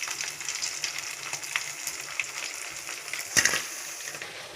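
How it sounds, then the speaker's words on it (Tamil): Prawns fry in a pan with a steady crackling sizzle up close, with a louder clatter near the end as they are stirred or lifted out. "நல்லா ஃப்ரை ஆகிடுச்சு, எடுத்துக்கலாம்."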